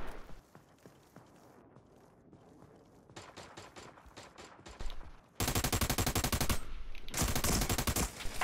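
Video game gunfire in an online match: quieter scattered shots and footsteps early on, then loud sustained automatic bursts dominate the second half, close and continuous with brief pauses.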